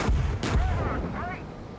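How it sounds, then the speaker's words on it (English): In the tank game Gunner, HEAT, PC!, two heavy booming blasts hit in quick succession, gunfire and explosions, followed by brief radio-like voice fragments fading out. "And you can definitely feel the explosions."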